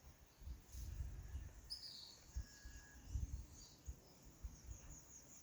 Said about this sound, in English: Oh, birds.